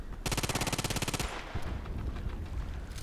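Rapid bursts of gunfire from a Colt Python Elite revolver in the shooter game Contract Wars, a dense, loud run of closely spaced shots followed by scattered, quieter reports and game noise.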